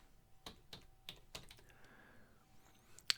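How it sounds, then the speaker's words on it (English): Quiet keystrokes on a computer keyboard, a few separate taps spaced unevenly, then a short pause and one sharper final click, close and alone. "I've got to type the state in full name, not abbreviation"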